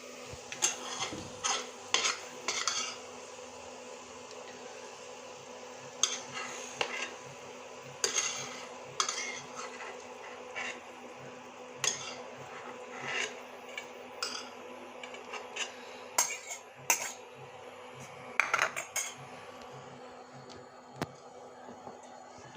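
Utensils scrape and clink against a pan while fried onion slices are lifted out for a chicken curry, with a soft sizzle of hot oil underneath and irregular close metallic taps across the whole stretch.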